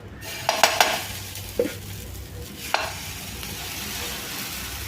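A hot dosa pan with a soft steady sizzle and a few sharp metallic clinks of a ladle or spatula early on, close by, with no talk.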